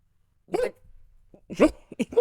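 Two or three dogs that are already worked up give short, sharp barks, a single bark followed after a pause by a quick close burst of several more.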